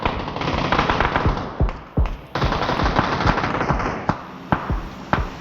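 Sustained automatic gunfire from PUBG on PC, a dense rattling burst running the whole stretch with several sharper, louder shots punctuating it; no voices.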